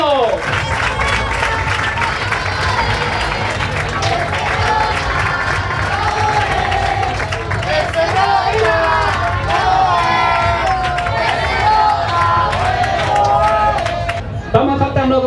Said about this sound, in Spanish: ¡Vamos, este aplauso, Rota!